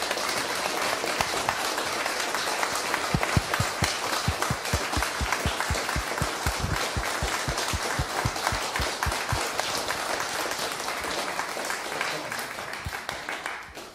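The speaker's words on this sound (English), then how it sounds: "So can we have a big round of applause?" Concert audience in a church applauding to welcome a pianist, steady clapping from a modest crowd with a run of sharp, evenly spaced close claps standing out, continuing for the full stretch.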